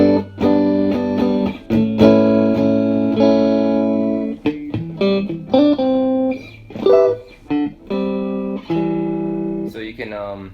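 Electric guitar through a small Milkman One Watt Plus tube amplifier, without reverb, plays sustained chords and short riffs with a warm, slightly driven tone, close and loud, with pauses between phrases.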